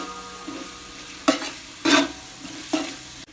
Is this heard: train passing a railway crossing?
no